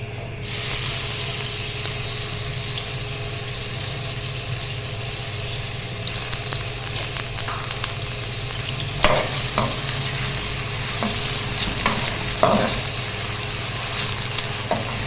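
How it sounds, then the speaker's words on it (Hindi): Finely chopped onion fries in about half a cup of oil, giving a steady, loud, close sizzle throughout with occasional stirring scrapes and clicks and no voices. "बस एक प्याज है, मैंने बारीक काट लिया, ये डालेंगे इसमें।"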